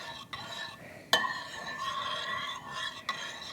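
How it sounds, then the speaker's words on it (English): A spoon stirring a pot of homemade tomato soup, soft scraping and swirling with a few sharp clinks against the pot rim, close and quiet. "So I'm just going to stir this up"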